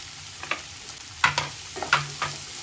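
Small shallot onions sautéing in a pan, a steady low sizzle broken by several sharp scraping stir strokes of a spatula, close and moderately loud with no talking.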